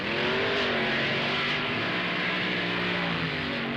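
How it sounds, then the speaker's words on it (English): Fuel funny car, a Barracuda, roaring down a drag strip, a loud, raw continuous engine blare with slightly wavering pitch throughout, heard alone on an old recording. "Schumacher's engine expires while Larson charges to a great 735, 192-mile-per-hour wind, and the crowd loves it."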